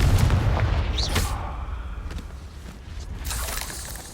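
Confringo fire spell cast in Hogwarts Legacy, a loud booming blast right at the start that trails into rumbling game ambience with smaller impacts.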